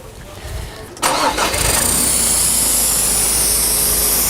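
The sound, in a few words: vehicle engine starting to power an air jack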